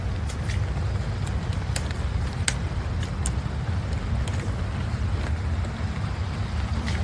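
Steady February rain hisses outdoors on a farm with scattered drips and patters ticking nearby, a continuous soft wash over a low rumble.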